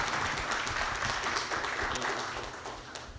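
A church dinner audience claps steadily for an arriving guest speaker, a dense, sustained wash of many hands at moderate distance, fading slightly toward the end with no voices over it.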